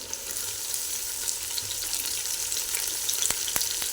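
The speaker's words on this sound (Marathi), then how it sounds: "आता टोमॅटो घालायचा टोमॅटो पण छान शिजवून घ्यायचा आहे" Tomatoes added to onions cooking in hot oil for chicken dum biryani, giving a steady, dense sizzle close by with faint stirring clicks toward the end.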